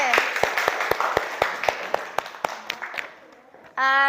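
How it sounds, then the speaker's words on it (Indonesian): A classroom claps for a student group about to present. Evenly spaced, sharp claps fall in a steady rhythm and grow gradually quieter, then a voice begins speaking at the end. "tepuk tangan dong buat kelompok Sase"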